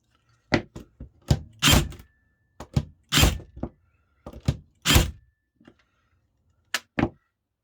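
A Makita FN001G cordless nailer firing into a tight 40mm gap, giving repeated loud, close thunks and snaps in uneven bursts separated by near-silence, with no talking.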